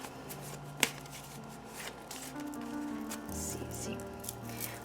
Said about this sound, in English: I'm going to reshuffle again because I like to do that